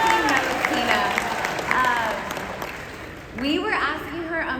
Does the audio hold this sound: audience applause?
yes